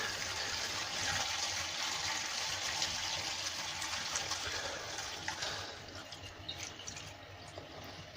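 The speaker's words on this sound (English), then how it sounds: "So I can hear it all gurgling away." Water pours and gurgles down the drain pipework of a newly installed toilet, giving a continuous rushing, bubbling wash that is fairly faint and tapers off toward the end.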